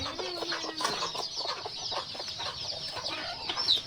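A mother hen clucks softly amid a busy chorus of chicks cheeping, steady and close throughout in a village coop.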